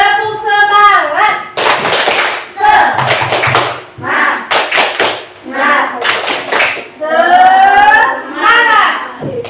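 Indonesian schoolchildren in a classroom perform the tepuk semangat clapping chant, sharp rhythmic claps alternating with loud shouted and sung children's voices, close and energetic throughout.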